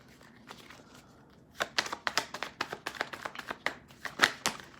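Tarot card decks are shuffled by hand, a quick run of crisp riffling slaps and flutters starting after a quiet moment, close and fairly soft.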